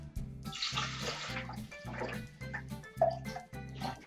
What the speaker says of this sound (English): you're going to need some water to fill up your pitcher with.